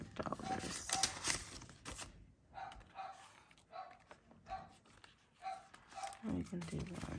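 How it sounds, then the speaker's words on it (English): Several dogs bark and yip repeatedly in the background of a home, faint and intermittent bursts under a woman counting money aloud. "I'm sorry if you hear that. My dogs are going crazy."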